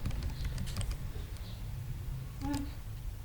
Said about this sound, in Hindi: टैब की प्रेस करते हैं